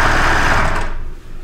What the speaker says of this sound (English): sew with a sewing machine and reinforce that seam